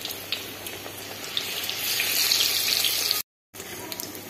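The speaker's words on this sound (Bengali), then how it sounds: "এখন একটা একটা করে বেগুন ভেজে নেব।" Eggplant slices fry in hot oil in a wok, making a bright, continuous hiss that swells slightly midway, then cuts out briefly before resuming.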